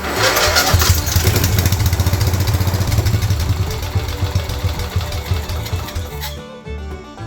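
A Wheel Horse 211-5 lawn tractor engine with a budget carburetor fix and a fuel-leaking valve cranks, catches and runs with a loud, steady chugging close by, then the sound cuts back sharply near the end.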